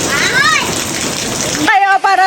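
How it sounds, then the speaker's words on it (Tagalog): Steady rain pours down hard and close for most of the moment, then cuts off as a person speaks over quieter background. "Diyan naman umulan, pero mukhang pahinto na eh"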